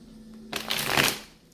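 Tarot cards riffled in a short shuffle during a twin flame reading, a soft papery burst of about half a second that swells and fades, close and alone with a faint hum underneath.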